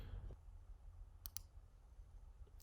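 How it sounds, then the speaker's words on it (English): A couple of quick, quiet computer mouse clicks on a link, two sharp ticks close together near the middle, then another near the end, over a faint low room hum. "Click the link at the bottom of the page."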